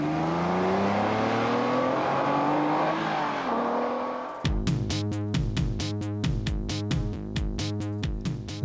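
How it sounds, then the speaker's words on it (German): A first-generation Honda NSX-R sports car accelerates hard on a winding country road, first a loud rising engine wail, then a rapid run of sharp revving bursts and gear changes, close and continuous. "Spielerisch, aber mit hohem Tempo lässt sich der Honda um enge Biegungen zirkeln, um gleich darauf wieder gierig am Gas zu hängen."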